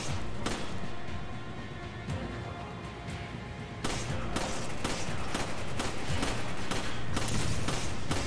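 Enemy gunfire in Resident Evil 5, with sharp, repeated shots and thuds cracking at an irregular pace, growing busier and louder toward the end over a dull rumbling background.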